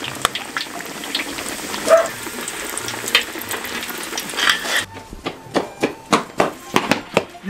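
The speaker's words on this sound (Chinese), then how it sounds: "小火慢炸" Oil frying over a low flame on a homemade stove gives a steady, close crackling sizzle for several seconds, cut off abruptly and followed by a series of sharp, evenly spaced taps.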